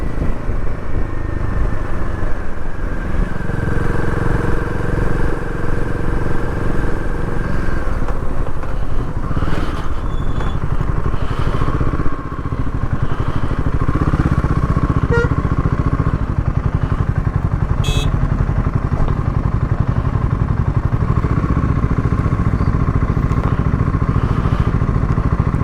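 A pack of five motorbikes rides the rough mountain road from Gunji toward Adi Kailash near Kuti, several engines droning and revving steadily with clattering over loose gravel, loud and continuous, no voices.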